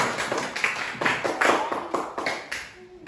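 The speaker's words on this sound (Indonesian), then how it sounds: "Bagus sekali, tepuk tangan." Classroom clapping from a primary-school class: a run of irregular sharp hand claps at moderate volume, with faint voices in the background.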